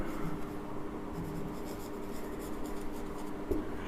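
Chalk or marker scratching across a board during a class 12 maths lesson on vectors, a steady close run of writing strokes with a few sharper taps, no voice over it.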